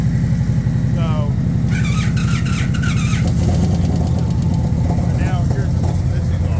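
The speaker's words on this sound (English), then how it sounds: "It's a whole funky type of exhaust." A vehicle engine runs steadily through a loud, unusual aftermarket exhaust, a constant deep low drone that sits close to the microphone, with faint voices and brief higher chatter layered over it.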